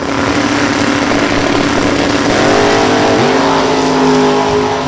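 Drag racing cars, one a Roadster, launch hard down the strip at Kil-Kare Dragway, a loud close engine roar with rising revs and a sharp pitch climb as they accelerate away.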